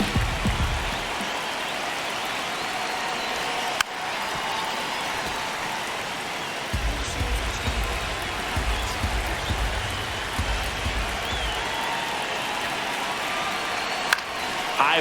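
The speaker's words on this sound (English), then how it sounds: "Crowd locked in right now." Steady, washing stadium crowd noise in the baseball video game MLB The Show 26 during a tight ninth inning, a continuous roar with a low rumble swelling in the middle.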